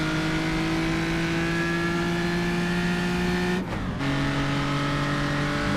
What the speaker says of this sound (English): Revving it a little too much in second gear there.